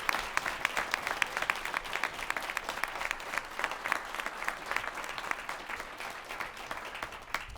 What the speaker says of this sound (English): who deserve another round of applause